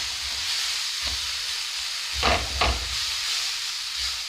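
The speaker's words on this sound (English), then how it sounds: "So we just want to start getting these onions a bit caramelised." Onions caramelising in a pan keep up a soft, even sizzle, and a couple of short scraping stirs stand out near the middle.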